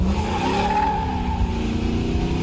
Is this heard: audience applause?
no